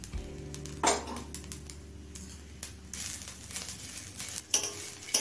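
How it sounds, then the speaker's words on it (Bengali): Grated ginger frying with rice in a pan on medium flame for Navaratna polao, with soft sizzling and crackling, a few sharp scrapes and clinks of a spoon stirring against the pan, close and fairly quiet. "এবার আদার কাঁচা গন্ধ চলে যাওয়া পর্যন্ত একটু ভেজে নেব"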